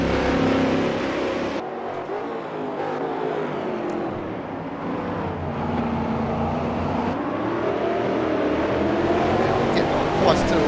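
A race car runs flat out uphill, engine held at a steady high drone with gear-like pitch shifts, while a commentator talks over it continuously.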